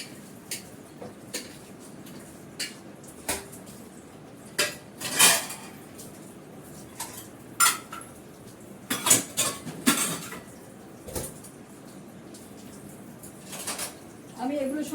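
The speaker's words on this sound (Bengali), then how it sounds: "আমি এগুলো সব ভিম লিকুইড দিয়ে বাসন মাজি" Dishes being scrubbed with Vim dishwashing liquid at a home kitchen sink: scattered clinks and clatters of metal pots and utensils, close and irregular, over a quiet background with a voice heard at times.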